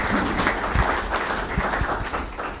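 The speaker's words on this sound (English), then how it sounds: "So a round of applause for Crime Stoppers" Steady crowd applause fills a council chamber, a dense wash of clapping with a few louder claps standing out, continuous throughout.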